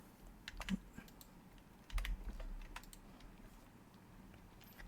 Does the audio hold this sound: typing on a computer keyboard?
yes